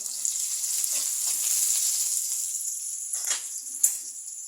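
Cabbage fries with onion and chilli in a pan, a bright steady sizzle with a few soft stirring scrapes and light knocks, close and continuous with no talking.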